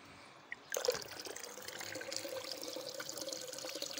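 Cold filtered water poured into a jug for a sweetened lemon drink starts abruptly after a small clink, then trickles steadily and close by.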